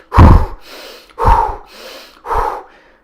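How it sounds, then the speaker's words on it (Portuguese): A runner demonstrates a rapid 1-1 breathing pattern for a final sprint, three loud, close, forceful breaths, each a sharp inhale followed by a full exhale, spaced about a second apart. "você dá uma inspirada e uma expirada completa"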